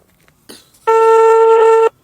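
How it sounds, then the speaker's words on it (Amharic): Ringback tone on an outgoing telephone call, a single loud, steady tone lasting about a second after a brief faint click, then silence. "እየጠራ ነው።"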